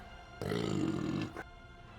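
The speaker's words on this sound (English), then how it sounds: "Who just burped?" A loud, low, rumbling burp lasts about a second, standing out alone against a quiet background during a late-night online chat.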